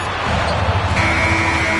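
A sustained electronic buzzer sounds partway through, marking the end of the quarter at a Dallas Mavericks Summer League basketball game, held steady over continuous arena crowd noise.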